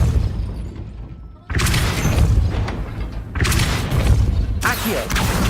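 A Depulso spell blasts in a Harry Potter video game, heard as loud, booming, crashing bursts with rumbling debris. Two heavy impacts come in quick succession, close and forceful.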